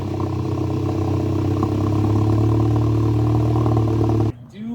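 The exhaust of a Volkswagen MK7 GTI gives a loud, steady, deep drone for about four seconds, then cuts off abruptly into near quiet.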